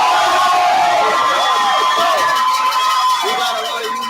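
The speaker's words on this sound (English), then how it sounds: "This crowd's going to be rowdy all day." A rowdy crowd at a Union City vs St Peter's Prep high school baseball championship game in Hudson County cheers and shouts loudly and continuously, with whoops and children's voices blending into a dense roar.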